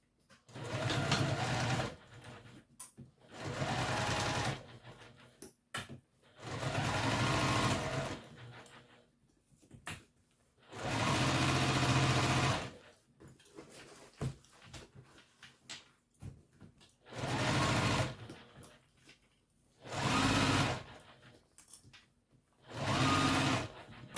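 A sewing machine stitches a bowler bag in repeated bursts of several seconds each, separated by short pauses, close and steady with no talking.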